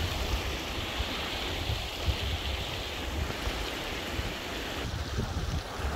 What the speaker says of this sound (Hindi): यहाँ पे झरने बहते हुए